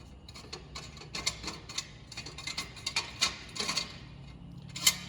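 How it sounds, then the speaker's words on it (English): A custom front metal gate latch slides and clicks into its catch: a cluster of small metallic clicks, rattles and scrapes close up, ending in a sharper clack as it locks, with no talking. "So it slides up and down, comes around, locks in there."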